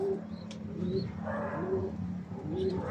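A bird calls with soft, low, repeated coos over a steady background hum, fairly close and moderately loud.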